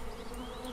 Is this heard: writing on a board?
no